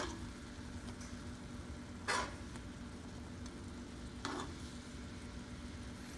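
Chicken for chicken Madeira fries in a pan with a steady, close sizzle, and two brief clattering bursts mark the pieces being turned over.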